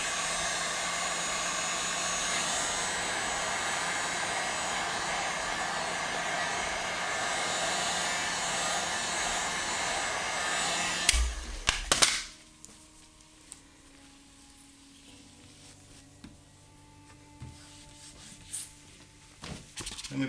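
A hair dryer blows heat onto an eyelid trim on a Tesla Model 3, making a loud, steady close whoosh for about eleven seconds before it clicks off into quiet handling noises.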